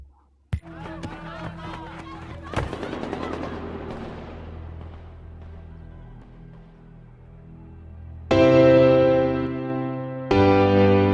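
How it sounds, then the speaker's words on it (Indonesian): Bursts of assault rifle gunfire in a city scene from the film Sicario: two sharp shots early on, then loud sustained reports near the end, set against a low rumbling film soundtrack. "terdengarnya rentetan suara senapan serbu yang masih menghiasi udara kota itu"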